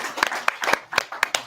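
A few people clap sparsely and unevenly at a veterans' entrepreneur showcase in Las Vegas, distinct close hand claps spaced irregularly rather than a full round of applause.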